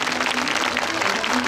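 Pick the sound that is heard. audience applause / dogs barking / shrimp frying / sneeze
audience applause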